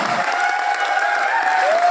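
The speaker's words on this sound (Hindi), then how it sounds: "मैं चाहूंगा इन सबके लिए कोई जोरदार तालियां जमा रहेगा।" An audience claps at an Indian Vestige business seminar, with a short, steady burst of applause over a sustained tonal musical backing.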